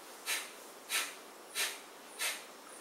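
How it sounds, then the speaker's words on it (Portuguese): Pranayama alternate nostril breathing, inhaling through the right nostril and exhaling through the left: four sharp, close nasal breaths at an even rhythm, each a short airy rush, with quiet between them. "É uma respiração que você inspira pela direita, expira pela esquerda, inspira pela direita, expira pela esquerda."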